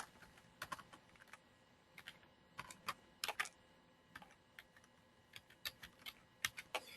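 Fingers type on a computer keyboard with quiet, irregular clicks that come in short bursts and scattered single taps, close by in an otherwise still room.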